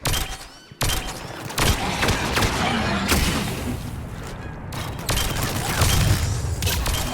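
Heavy gunfire in the video game Mass Effect 3, with dense rapid shots and booming blasts forming a loud, nearly continuous barrage broken by brief pauses.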